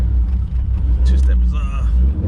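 A Pontiac G8 engine with two-step launch control switched on sends out a heavy, loud rumble with rough, sputtering pulses, close to the car, while someone talks over it.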